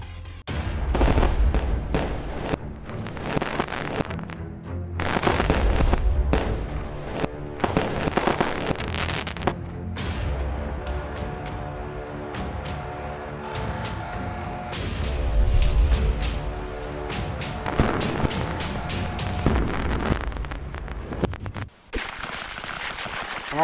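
Red Apple fireworks burst in rapid volleys, with sharp crackling pops, heavy booms and strings of firecracker reports coming in repeated loud clusters for the full stretch.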